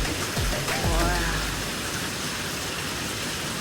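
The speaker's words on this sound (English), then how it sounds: "Just a lot of rain tonight," Heavy rain pours during a big night storm in Kihei, Maui, a loud, dense, unbroken roar of falling water close by, with a person briefly exclaiming over it.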